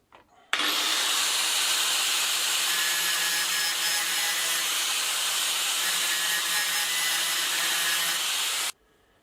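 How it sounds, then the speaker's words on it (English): An angle grinder cutting into a metal lawn mower part to make a groove: a loud, steady, high-pitched grinding whine that starts abruptly, holds evenly for about eight seconds, then cuts off. "we'll also grind a bit off the other half to create a bit of a groove."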